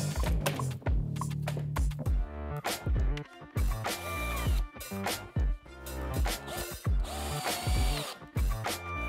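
A power drill whirs in repeated short bursts, revving up and down as it drives the last screws into a workbench dust-collection tray, with clicks and clatter between runs.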